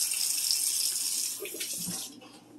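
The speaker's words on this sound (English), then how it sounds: "We wash our meat off and we just rinse it lightly." Tap water runs steadily into a sink as an eye round roast is rinsed under it, a close, even splashing rush that tapers off near the end.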